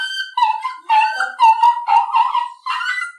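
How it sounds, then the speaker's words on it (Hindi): A dog howls beside a burning funeral pyre in a Hindi stage play: a series of close, loud, drawn-out wailing cries that rise and fall with short gaps between them. "ये कुत्ते की रुलाई सुनकर आप चौंक क्यों पड़े?"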